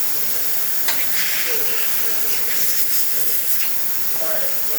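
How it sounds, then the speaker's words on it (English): Steam wand on an Elektra espresso machine, just serviced and tuned up, hissing loudly and steadily with a harsh sustained rush and faint gurgling, continuous throughout. "Steamer, as you can see,"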